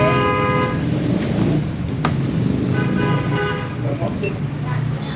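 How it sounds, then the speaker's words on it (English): Car horns honk repeatedly in holiday street traffic, loud and near, with overlapping toots over a steady roadway rumble and voices talking nearby. "stop honking, guys"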